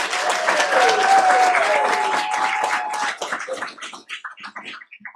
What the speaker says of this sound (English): Let's give another big round of applause for Tony Johnson and Emily Wan.